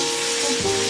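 Chicken pieces for a poppy-seed chicken dish fry in a pan, giving a close, continuous sizzling hiss with a brief shift in tone midway.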